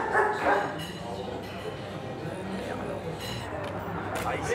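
A dog at a French truck stop gives short woofs and yips amid steady background noise, mixed with nearby people talking.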